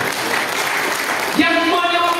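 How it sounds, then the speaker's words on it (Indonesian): A church congregation at a Christmas service applauds in a loud wash of clapping, and a voice begins speaking over it toward the end. "Tepuk tangan bagi Tuhan."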